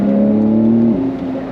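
A Porsche 911 992 Carrera S with PDK gearbox holds a steady engine drone that drops in pitch at a quick downshift, with turbo whoosh in the background, heard close from inside the car.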